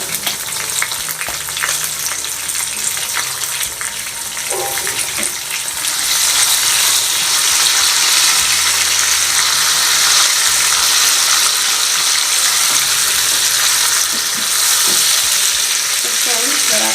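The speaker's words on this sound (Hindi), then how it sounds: "इसको हम थोड़ा सा भूनेंगे।" Chopped tomato and green chillies sizzle in a pan for lotus root sabzi, a loud, continuous frying hiss that swells after a few seconds, with stirring scrapes throughout and no talking.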